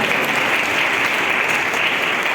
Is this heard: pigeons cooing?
no